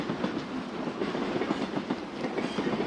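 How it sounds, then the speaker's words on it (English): Night train on a rainy run, a steady rumbling clatter of wheels on rails with a faint rhythmic clickety-clack, continuous and fairly close, with no voices. "The night train keeps its steady promise, carrying us through miles of rain-washed hush."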